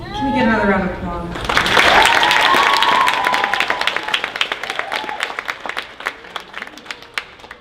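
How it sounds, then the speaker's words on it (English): A round of applause at a masquerade judging event: after a voice and a loud cheer, a crowd claps steadily for several seconds, the claps thinning and fading toward the end. "Can we get another round of applause?"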